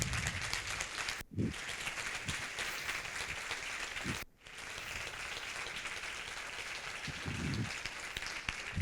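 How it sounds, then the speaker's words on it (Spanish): Audience applause at an international symposium videoconference, a steady broadband patter of many hands lasting several seconds, briefly dipping twice, with faint murmurs beneath. "Damos un fuertísimo aplauso."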